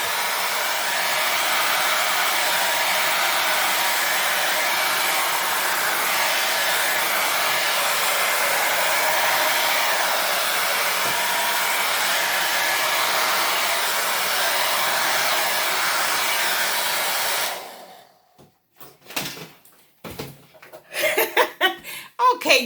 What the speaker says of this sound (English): The blow dryer just had that paint going all over the place.